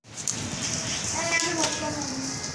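Steady rain falls in a dense, hissing wash that starts suddenly and holds evenly throughout, close and fairly loud.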